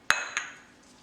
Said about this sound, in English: Mix with a spoon initially